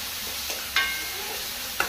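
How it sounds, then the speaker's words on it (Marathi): Onion fries in oil in a pan, giving a steady close sizzle with a couple of light stirring scrapes and no talking. "बरो कांदो फ्राय करपा जाय."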